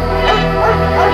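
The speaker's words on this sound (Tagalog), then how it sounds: "nagising siya sa walang tigil na mga tahol" Dog barking in the small hours, a rapid run of loud, close barks and yips repeating over a sustained humming background.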